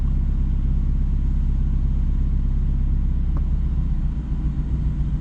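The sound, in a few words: 2019 Mazda Miata pulling away on clutch without gas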